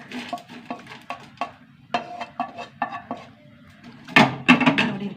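Fried prawns being lifted out of a pan and moved onto a plate, a run of close, sharp utensil clicks and scrapes against metal and dishware, with a louder clatter of pieces landing near the end.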